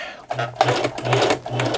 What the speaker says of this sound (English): put it underneath our sewing machine, and we can get to stitching